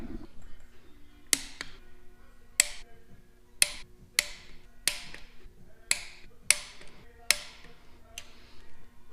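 A torque wrench clicks repeatedly while tightening cylinder head studs on a 3000GT VR4 6G72 twin-turbo engine, about a dozen sharp close clicks at a steady pace over a quiet background.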